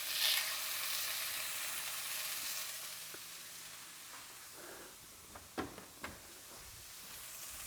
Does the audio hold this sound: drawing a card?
no